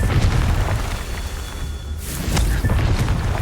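Confringo spell explosions in the Hogwarts Legacy video game, loud low booming blasts with a rumbling tail and a second burst midway, dense and close.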